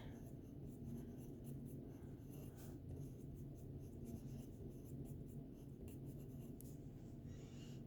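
Marker or chalk scratching steadily across a board during a maths lesson on factoring a difference of squares, a continuous close rubbing texture with no pauses and no talk.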